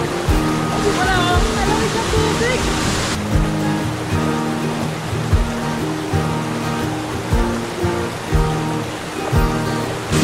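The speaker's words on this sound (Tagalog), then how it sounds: "nakakita kami ng magandang waterfalls sa Palapag" Kakaibang Falls in Palapag pours with a dense, constant roar of rushing water, loud and close, with faint voices mixed in briefly near the start.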